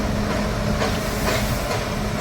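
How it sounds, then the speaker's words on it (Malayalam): The engine of the Mettupalayam–Ooty toy train runs in a workshop with a loud, steady rumble and hiss, continuous throughout with no voices. "വർക്ക്ഷോപ്പിൽ ഓടിയെത്തിയ നമ്മുടെ ടോയ്സ് ട്രെയിനിൻ്റെ എൻജിൻ"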